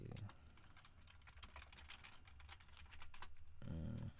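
Quiet keyboard typing while C++ code is written, a run of soft, irregular key clicks with a faint background hum, growing slightly denser toward the end.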